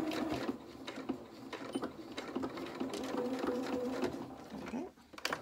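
A domestic sewing machine stitching a small fabric piece for a toy rabbit's T-shirt dress: a continuous quick whirring chatter with slight speed changes, close and fairly quiet, without voices.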